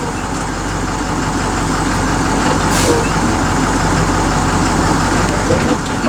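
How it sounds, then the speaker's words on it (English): A school bus creeps forward during a pre-trip brake test while its engine rumbles steadily and loud, and a short hiss of the air brakes stands out partway through. "Applying the brake, making sure that there's no pull in the steering wheel"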